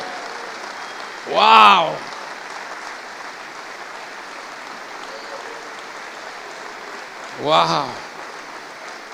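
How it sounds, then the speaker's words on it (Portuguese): Applause fills a church after the congregation is urged to clap for Jesus, a steady wash of clapping under two loud shouts from a man. "mais palmas para Jesus"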